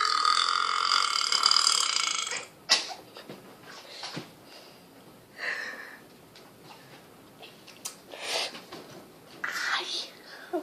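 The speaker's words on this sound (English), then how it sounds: "I'm going to drink it and then I'm going to burp." A girl burps loudly after gulping Gatorade in a burping contest, one long drawn-out belch followed by several shorter burps and soft breathy sounds.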